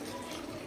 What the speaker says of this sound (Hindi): बस बाकी अभी हम इसमें पानी डालेंगे गरम